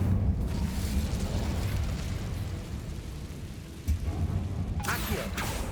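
Incendio fire spell cast in Hogwarts Legacy: a loud roaring whoosh and burst of flame that swells and fades, with a fresh crackling flare near the end.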